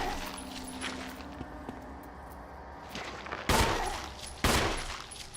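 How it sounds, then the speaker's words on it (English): Gunfire in the 2002 Resident Evil survival horror game: two loud, close shots about a second apart. A quieter in-game background with faint tones comes before them, and no voices are heard. "Oh my god, I'm gonna use all my bullets."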